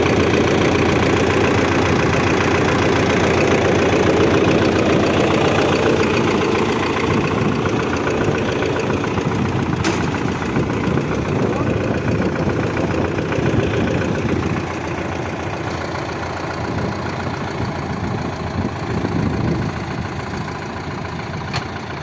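An MTZ tractor engine idles with a steady, rough mechanical rumble and slight knocking, close and loud throughout, the tone dropping a little near the end.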